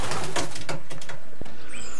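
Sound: racing pigeon cooing

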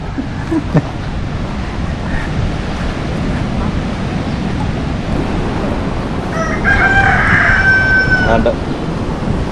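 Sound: rooster crowing

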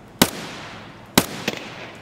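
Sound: gunshots in Escape from Tarkov video game

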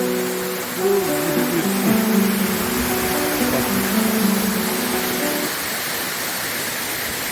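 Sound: waterfall

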